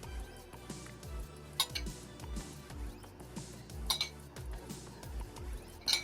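A raspberry and mandarin salad is tossed with vinaigrette in a bowl, giving soft, irregular clinks and taps of utensils against the dish, fairly quiet and close.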